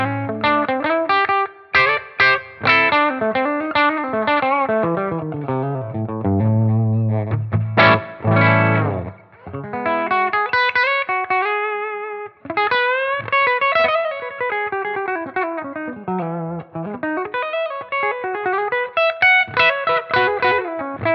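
Electric guitar played through a Klon-style overdrive pedal modeled on a Tonex with the drive raised a little, giving mild crunchy distortion over strummed chords and melodic single-note runs, loud and continuous with no talking.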